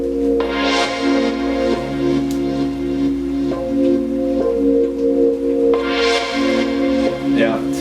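Synthesized chords hit in short, sustained stabs at a slow, regular pace, layered over a low held tone, with brighter attacks on some hits.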